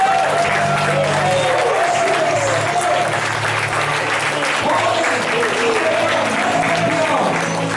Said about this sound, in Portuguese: Uma linda salva de palmas para você